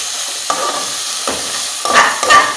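A spoon stirs a tomato paste and garlic mixture in a pot, the base for arroz con gandules, making a few scraping strokes over a soft sizzle, with the last two strokes louder and closer together, no voices.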